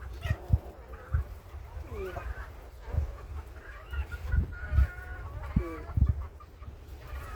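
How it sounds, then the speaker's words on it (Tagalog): Chickens cluck in short, scattered bursts close by at a seaside hut, with soft rustling and occasional low thumps in the background. "May manok."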